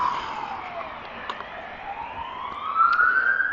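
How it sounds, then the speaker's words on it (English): An ambulance siren in Wales wails with a slow rising and falling pitch, fairly loud and passing nearby over light traffic noise. "Oh no, ambulance."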